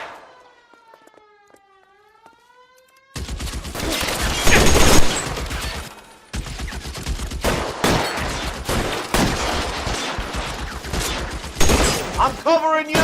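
Gunfire in the L.A. Noire video game erupts after a quiet opening with a siren-like tone, then dense, loud bursts of rapid shots and automatic fire continue almost without pause through the rest of the clip.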